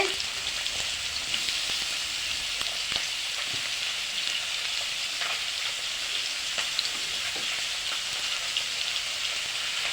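Onions sizzling in hot oil in a wok, a continuous close, even crackle and hiss like light rain with a few sharper pops throughout, without speech.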